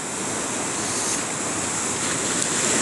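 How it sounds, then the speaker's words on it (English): Ocean surf breaks and washes along a St Lucia shore as a dense, steady roar of waves. The sound is loud and continuous from start to end, with wind noise mixed in. "it's immensely confusing, the different directions the waves are coming."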